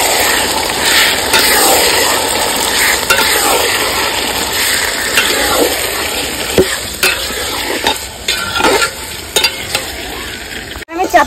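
Marinated mutton fries in spiced oil in a pot for a red mutton curry, with busy, loud sizzling and repeated close scraping and stirring strokes throughout, no voices.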